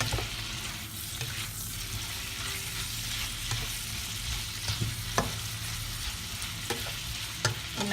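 Green beans and sliced peppers stir-fried in a pan for a Chinese dish, a steady sizzle with scraping stirs and occasional clinks of the utensil against the pan, close, with no talking.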